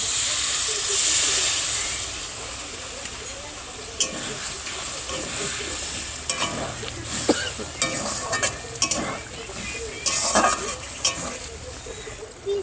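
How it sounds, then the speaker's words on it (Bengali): Fish curry with a little added water bubbling in a pan, giving a steady hiss and simmering crackle throughout, with scattered pops and occasional utensil knocks, close and moderately loud. "খুব সুন্দর ফুটছে।"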